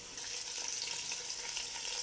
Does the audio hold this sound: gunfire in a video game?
no